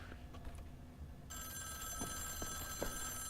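A telephone rings in Wolfenstein: The New Order, its bright tonal ring cutting in partway through over a low background rumble, with a few small clicks following.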